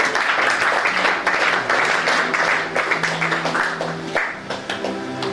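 A church congregation applauds with steady, dense clapping throughout, mixed with a sustained tone and faint voices.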